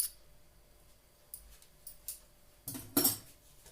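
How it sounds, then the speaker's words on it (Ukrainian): A fork clinking against a bowl as it mixes a lavash bake filling, quiet scraping broken by a few sharp metallic taps, the loudest near the end. "Я візьму вилочку і отак от все ретельненько поєднуємо, перемішуємо"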